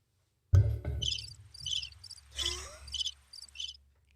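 Crickets chirp in short repeated bursts after a sudden thump of microphone handling noise, fairly faint and with no voices.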